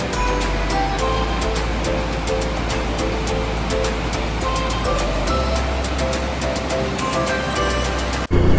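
At a Himalayan river confluence on the road to Badrinath, the Alaknanda rushes as a loud, constant roar, heard up close with a low engine-like rumble underneath and a sharp bump at the end.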